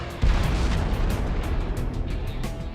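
A HARM anti-radiation missile strikes a SAM site, a sudden heavy boom followed by a long, loud, rumbling roar that stays dense and sustained throughout, with no voices over it.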